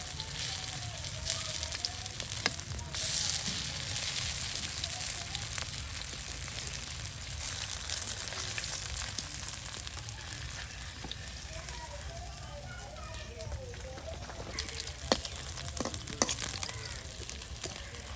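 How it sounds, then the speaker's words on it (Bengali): Bora fritters fry in oil on a stove with a continuous crackling sizzle, broken by occasional sharp clinks of a utensil. "চুলার লিগে বড়া ভাজতেছি"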